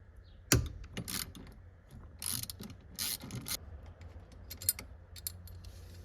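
Bolts being loosened from a metal cover on a first-generation Lexus SC 300/400 during a tilt steering motor repair, giving close, sharp metallic ratchet clicks and clinks in short bursts with brief pauses.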